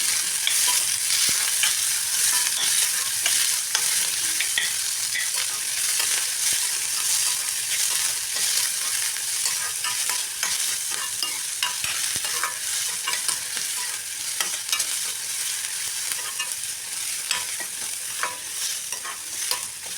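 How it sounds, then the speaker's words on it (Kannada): Finely chopped onion frying in a pan with soppu gojju ingredients, a dense continuous sizzle with frequent scraping stir strokes, close and steady, no voices. "ನಂತರ ಇದಕ್ಕೆ ನಾನು ಸಣ್ಣದಾಗಿ ಕಟ್ ಮಾಡಿರೋ ಒಂದು ಈರುಳ್ಳಿನ ಹಾಕ್ಕೊಂಡು ಚೆನ್ನಾಗಿ ಫ್ರೈ ಮಾಡ್ಕೋತಾ ಇದ್ದೀನಿ"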